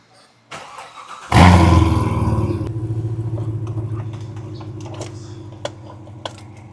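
A Corvette C7 3LT V8 cranks and fires with a loud, sudden burst, then settles into a steady, rumbling idle, heard close with a few faint clicks over the engine.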